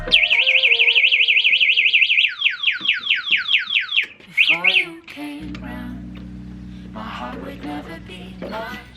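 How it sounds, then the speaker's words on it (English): An ECGO Bike 2 electric bike's anti-theft alarm wails loudly in rapid warbling chirps, shifting through several siren patterns before a low steady hum and faint voices take over. "It turns on both of the brakes and it turns on an alarm."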